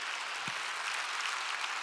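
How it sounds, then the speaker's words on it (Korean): Congregation clapping during a church Sunday worship service, a steady broadband wash of many hands without pause, one brief low thump near the start. "박수를 치라고."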